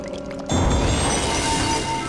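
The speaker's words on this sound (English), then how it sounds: "Select the bottle, then pour onto the potion." A short burst of liquid pouring onto a potion in a Harry Potter and the Half-Blood Prince video game begins abruptly and continues steadily, with a bubbly sloshing texture over a low background hum.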